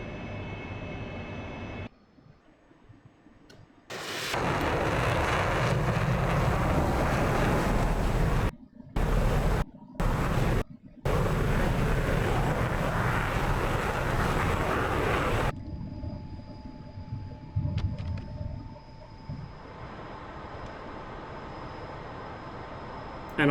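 F-14A Tomcat jet engine roaring steadily in a flight combat game, loud and continuous with brief cutouts, settling into a quieter hum near the end; no talk.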